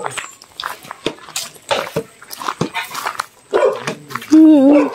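A dog barks and yips in sharp bursts outdoors while people talk nearby, ending with a whining, whimpering note.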